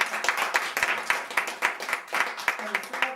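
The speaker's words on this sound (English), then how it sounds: "give our panelists a round of applause" A forum audience claps for the panelists with distinct, fairly sparse handclaps in an uneven rhythm, moderately loud and close, with some voices mixed in.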